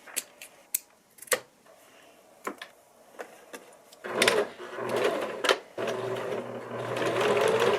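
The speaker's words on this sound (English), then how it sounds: "Here I'm sewing the lower zipper to the pieces that sandwich on either side along with the lining, then top stitching." Sewing machine stitching a leather backpack's lower zipper together with its lining: scattered short mechanical clicks and taps at first, then a steady, close running whir of continuous stitching.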